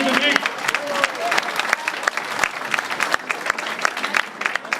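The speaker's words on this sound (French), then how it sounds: "l'équipe de Mme Collin, une bonne main d'applaudissement, s'il vous plaît." An audience at a lunch event applauds the kitchen team, dense and loud clapping that thins out toward the end, with voices mixed in among the claps.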